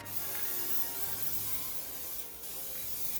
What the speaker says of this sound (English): I used Plasti Dip to coat the whole thing in my highly technical garage painting booth.